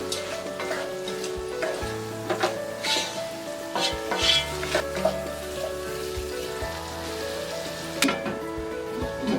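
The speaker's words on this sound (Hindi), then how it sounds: "सारे सब्जी अच्छी तरह से फ्राई हो गए हैं।" Mixed vegetables coated in ginger garlic paste fry in a pan with a steady, close sizzle, broken by scattered crackles and the occasional clink of stirring.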